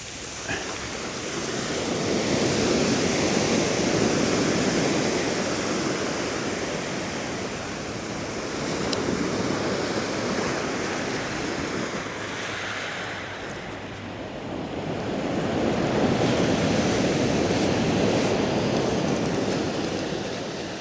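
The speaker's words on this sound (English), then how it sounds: "Tide is coming in rapidly." Waves of an incoming tide wash continuously onto a beach at night, a loud, steady surf roar that swells and eases in broad surges with no voices.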